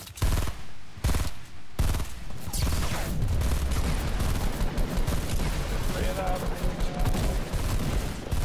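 Gunshots in a video game: dense, continuous battle noise with heavy overlapping gunfire and booming blasts, loud and sustained throughout, with a few sharp cut-off bursts at the start.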